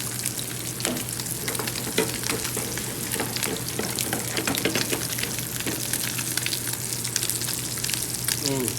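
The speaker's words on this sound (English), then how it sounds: "A little too lemony, so I'm gonna add a little bit of vegetable stock." Vegetable stock poured into a lemony piccata sauce already sizzling in a pan, giving a steady, close frying hiss with bubbling and crackle throughout, no voices.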